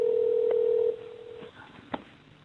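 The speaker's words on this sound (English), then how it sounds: "If you know your party's 5-digit extension, please dial it now." Telephone keypad DTMF tones as a caller dials an extension on an automated business phone line: a steady tone fades out, then a few short beeps follow, quiet and close.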